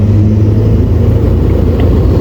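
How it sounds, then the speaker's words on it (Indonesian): Toyota Hilux engine rumbling steadily at low revs as the clutch is let out and the pickup begins to creep forward, a continuous close, loud drone with no talk. "Nah, sampai mobil mulai terasa bergetar dan bergerak sedikit."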